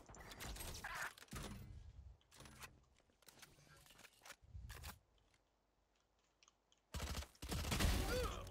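Bursts of gunfire in the tactical shooter Valorant arrive in several clusters, with loud rapid volleys at the start and end and quieter single shots between them.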